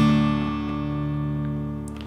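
Guitar strings ringing in open D tuning, the low E dropped to D, a single strummed chord sustaining alone and slowly fading over about two seconds.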